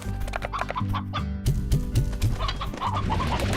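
Repeated clucking from a stony hen in the Slime Rancher video game, a quick series of close, distinct clucks over a steady game background with no talking.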